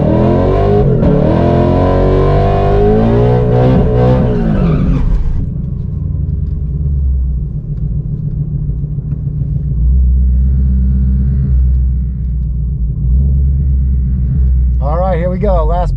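A 2020 GT car launches hard in a race, its loud engine rumbling and revving up through the first seconds before settling into a deep, steady roar, with a brief rising whine near the end.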